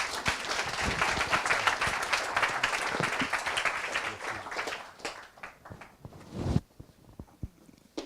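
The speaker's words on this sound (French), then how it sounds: "On va applaudir le rapporteur et le thésard." An awards-ceremony audience gives a round of applause for a prize rapporteur and a thesis student, dense steady clapping that thins out and fades to scattered claps by the end.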